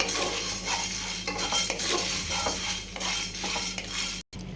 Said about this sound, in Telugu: ఇందులోనే మనము ఎండుమిర్చి కూడా వేసి వేయించుకోవాలి